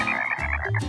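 Cartoon frogs in Rusty Rivets give a quick run of close, loud, throaty croaks, a couple of rough ribbits in under a second, with no speech.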